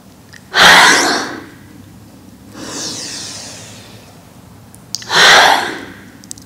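Deep breathing during a beginner yoga class: two strong, airy breaths near the mic with a softer, hissy breath between them, spaced a few seconds apart in a quiet room.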